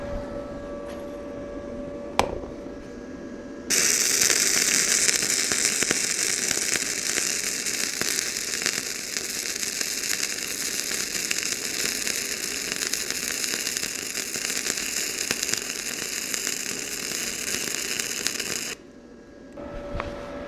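YESWELDER 165 multi-process welder laying a bead on 1/8 inch metal, a loud steady crackling sizzle that starts abruptly after a quiet hum and a click, holds for about fifteen seconds, then cuts off.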